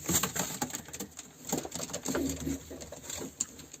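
Pigeons coo softly and repeatedly near a nest of young birds, low throaty calls in an uneven rhythm with light pattering and fluttering around them, fairly quiet overall.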